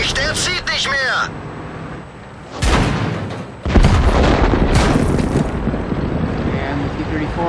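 Tank cannon shots in World of Tanks, with a T-34 among the tanks firing. Two loud, booming blasts land a second apart amid rumbling engine noise, while game voices chatter over the action.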